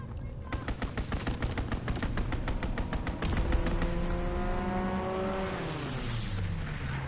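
Rapid bursts of enemy strafing-run gunfire in a PS4 shooter, loud and dense for the first few seconds, then giving way to a roaring aircraft engine sweep that rises and falls in pitch.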